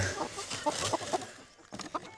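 A rooster and hens cluck close by in short, irregular bursts, with a busy farmyard murmur behind them.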